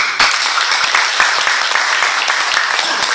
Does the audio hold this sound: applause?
yes